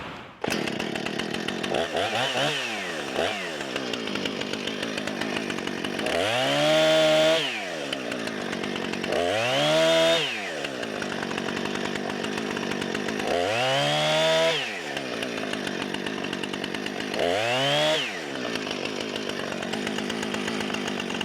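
A chainsaw roars nearby, cutting all the way through a firewood log, its pitch dipping and climbing repeatedly as it bites into wood, with several distinct revving surges across the stretch.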